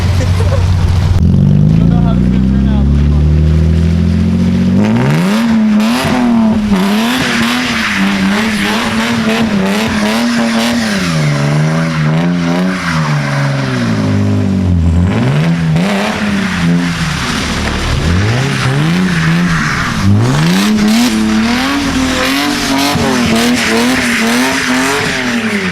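A car at a car meet does a burnout, its engine revving hard in repeated rising and falling surges while the tires squeal continuously, loud and close, with voices underneath.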